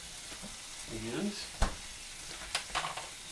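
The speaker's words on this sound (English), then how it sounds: "stir this up a little bit. We're getting some nice sizzle going now." Spaghetti sauce sizzles faintly in a pan while being stirred, a soft continuous hiss broken by a few sharp scrapes and clicks, with someone briefly speaking.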